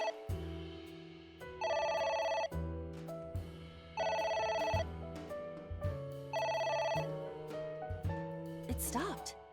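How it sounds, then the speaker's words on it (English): A telephone rings repeatedly in the video game AI: The Somnium Files, three loud electronic ring bursts in a steady pattern over game music, with people talking quietly in between. "It won't stop ringing."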